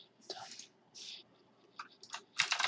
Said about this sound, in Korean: 텍스트 박스에서 키를 막 열심히 치다가 엔터를 쳤어요